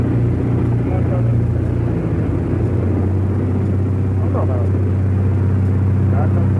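A 1960s light aircraft engine throttled back in flight, a steady low droning rumble that runs throughout with a voice speaking over it.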